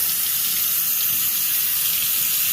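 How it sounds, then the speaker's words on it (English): Tap water runs steadily over pieces of goat meat being washed in a kitchen sink, a close, continuous splashing rush with no pause. "let the water run over it"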